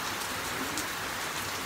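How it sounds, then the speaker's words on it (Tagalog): Rain falls steadily and evenly, a dense continuous hiss of drops on surfaces with no voices and no breaks. "Enjoyin ko yung ulan hanggang matapos."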